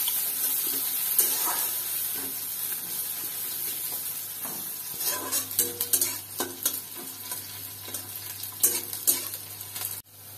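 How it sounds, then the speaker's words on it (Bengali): Chopped onion sizzles steadily in hot oil with dried red chillies and panch phoron, the broad hiss running throughout while a spoon scrapes and stirs the pan in irregular clatters, close and fairly loud, with no talking. "পেঁয়াজটা একটুখানি ভাজা ভাজা করে নেব।"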